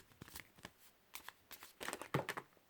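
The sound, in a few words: shuffling tarot cards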